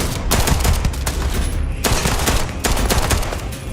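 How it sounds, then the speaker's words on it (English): Sustained gunfire in the video game Starfield on Xbox Series X, loud dense bursts of rapid automatic shots with brief lulls between volleys, no talk over it. "Quit shooting at me."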